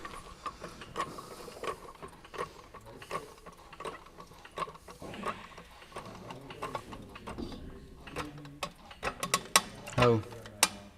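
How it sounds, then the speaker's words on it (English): A jack raises a Chevy K30 square-body truck with irregular ratcheting clicks and metallic clunks, close and fairly quiet, with faint voices in the background. "All right, now jack it up."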